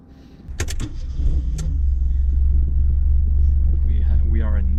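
A 1992 Fiat Cinquecento 900 engine catches and settles into a steady, loud low rumble, close up, after a few sharp clicks at the start, with a faint voice near the end.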